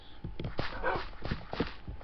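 A wolf in the Minecraft video game gives short, soft dog-like barks and yips, several quick calls in a row at moderate volume.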